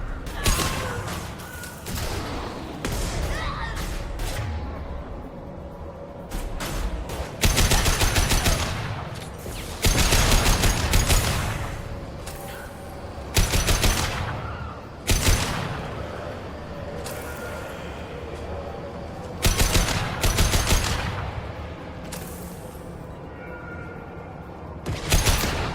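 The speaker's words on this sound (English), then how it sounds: "Firing a high-impact shot." Gunfire in Mass Effect 2 Legendary Edition, heard as loud bursts of shots in several separate volleys with brief gaps between, over a steady background of combat noise.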